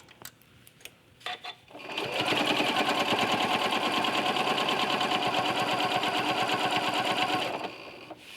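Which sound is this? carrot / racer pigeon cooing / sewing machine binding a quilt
sewing machine binding a quilt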